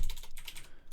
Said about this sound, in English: Again, nice typing.